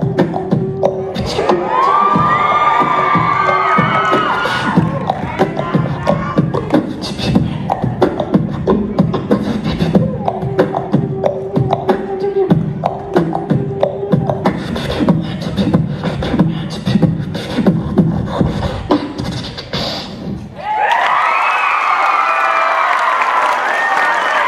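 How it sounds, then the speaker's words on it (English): Large crowd at a Filipino-Canadian community event in 2017 cheering, shouting and clapping loudly and continuously, dense applause with whoops throughout, then dropping into a brighter burst of cheering near the end. "Another very big round of applause for the Pinoy"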